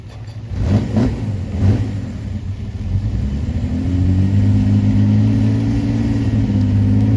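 A 1953 Le Mans-winning Jaguar classic race car drives past at a concours event, its engine rumbling low and rising into a steady, sustained drone that holds loud and near through the end.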